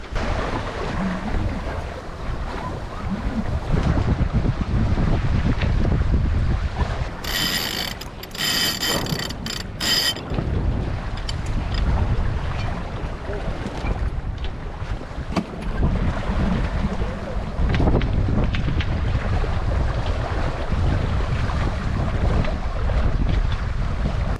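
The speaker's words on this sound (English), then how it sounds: "So we're doing a few jibes just so we can make some progress because we're running downwind." A 28-foot sailboat runs downwind off northern Spain, with steady loud wind buffeting the microphone and water rushing along the hull throughout, plus a brief burst of rattling rigging or mechanism noise partway through.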